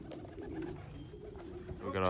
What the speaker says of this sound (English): We got a third bird here.